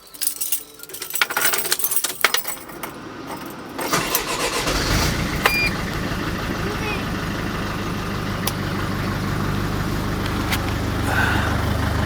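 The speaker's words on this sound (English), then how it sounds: "Switch the engine on." A Mercedes Sprinter camper van engine cranks and catches, settling into a steady loud diesel idle after a few seconds of clatter and handling noises.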